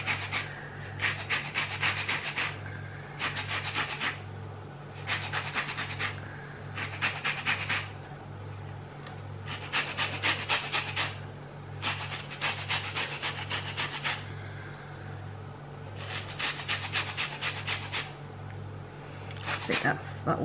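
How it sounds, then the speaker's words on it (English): Orange zest being grated by hand, a rhythmic series of scratchy rasping strokes in repeated bursts, close and fairly quiet over a steady low hum. "Let's get plenty of zest into this, because this will help with that chili."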